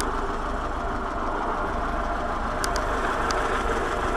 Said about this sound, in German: dass der Motor relativ ruhig läuft